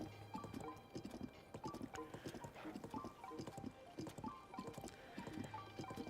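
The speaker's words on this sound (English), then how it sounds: "whenever you're riding the horse" Horse hooves clip-clop in a steady galloping rhythm as a horse is ridden in a Zelda video game, heard over soft background game music.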